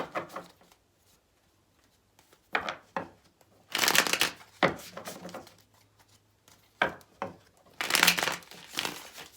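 Tarot cards are shuffled in several bursts of riffling and crisp card-flicking, separated by short quiet gaps, close and fairly loud.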